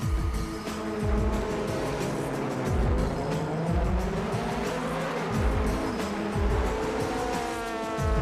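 DTM touring race cars roar around the Mugello circuit in Italy in 2007, a loud, continuous engine snarl with gear shifts and rising and falling pitch as several cars pass close together.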